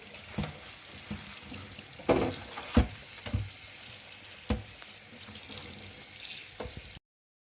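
Fresh spinach being rinsed under a running kitchen tap, a steady splashing water stream with a few louder bursts and knocks as the leaves are handled, no talking.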